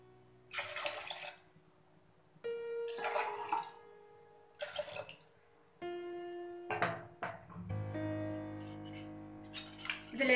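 Several pours of water, about two and a half glassfuls, splash into a pot for radish sambar in a home kitchen, each short gush separated by pauses over a low steady hum.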